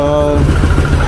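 A Yamaha Aerox 155 scooter with hard-starting and charging-system trouble idles nearby, its engine settling into a quick, regular low pulsing for about a second after a brief steady tone.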